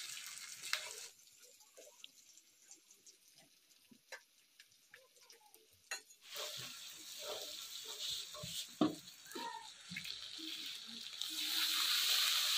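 Chicken legs sizzle and fry in a pan as the meat is browned, a soft crackle that grows into a louder, steady hiss midway, with occasional stirring clinks and scrapes.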